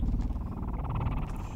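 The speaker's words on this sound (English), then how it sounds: "The tentacles purr." A tentacled creature in the sci-fi horror game Carrion purrs with a steady, low rumbling throb, close and continuous for the whole moment, with no talk over it.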